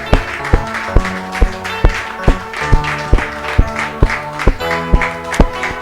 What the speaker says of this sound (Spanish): vamos a darle un aplauso al Rey de Reyes y Señor de Señores